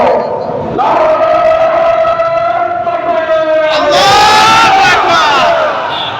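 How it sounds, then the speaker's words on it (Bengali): A large crowd at an election rally chants takbir, loud sustained massed voices swelling together and then a second rising roar of many voices, with no pause across the full few seconds. "আমরা প্রথমে একটি তাকবীর দিয়ে শুরু করব"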